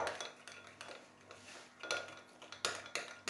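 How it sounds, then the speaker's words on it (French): Homemade mayonnaise is whisked in a bowl as oil is slowly poured onto egg, producing faint, uneven clinks and taps of the utensil against the dish in quick bursts. "Je verse doucement mon huile et je mélange."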